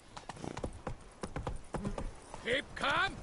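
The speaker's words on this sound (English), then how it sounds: "Hey, Roach. Good horse." Close hoofbeats from Roach, the horse in The Witcher 3, clop in a quick uneven rhythm before a voice speaks over the last moments.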